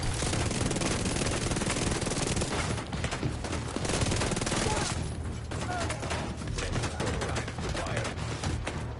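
Enemy gunfire in the shooter game The Division 2: dense, continuous rapid-fire shots rattling without pause for the whole stretch, loud and close, easing slightly midway, with a voice faintly underneath.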